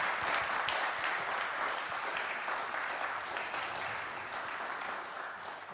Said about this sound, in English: I hope everyone can join me in a round of applause for Dr.